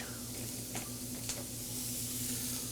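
Shrimp, tasso, bacon and garlic fry over medium heat in a pan, giving a steady, fairly quiet sizzle with a low hum beneath and a couple of brief crackles.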